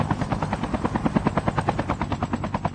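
Helicopter in a squad battle video game, a close, loud rhythmic thumping of rotor blades with a steady chopping beat throughout.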